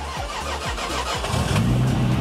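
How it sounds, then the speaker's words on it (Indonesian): A car engine cranks over several times in quick rhythmic turns, started remotely from a phone with nobody inside, then catches and settles into a steady idle close by. "Gue matiin mobil bisa dari handphone. Tapi nggak cuma bisa matiin doang, yang pastinya bisa ngidupin juga."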